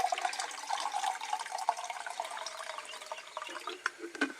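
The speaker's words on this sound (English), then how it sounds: "And I'm going to spill water everywhere." Water is poured into a camp cooking pot to make a freeze-dried Mountain House meal, a close, bubbling, gurgling stream with uneven splashes that runs throughout and spills over.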